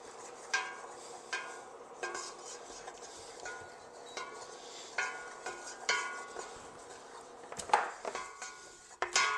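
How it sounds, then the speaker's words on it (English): Oil and fat being stirred together in a hot pan, a spoon scraping and knocking against the metal in a steady rhythm with a soft sizzle underneath, close and clear with no talking. "Now you want to stir that in until the oil and the fat is mixed."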